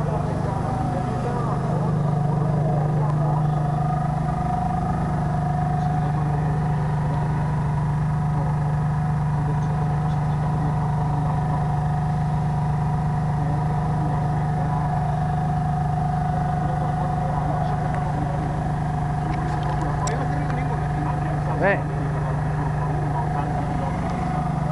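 A Ferrari Enzo engine runs at a steady, low idle nearby, a constant droning hum with people talking over it throughout.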